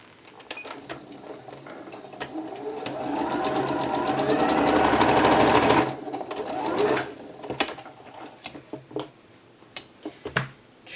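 A sewing machine stitches a sleeve seam at a 1/4 inch allowance on a beginner peasant top, running in a steady whirring burst for several seconds before stopping, followed by scattered clicks and fabric handling.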